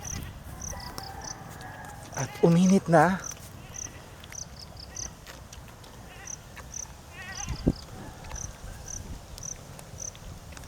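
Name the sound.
goats bleating, newborn kid and adult pair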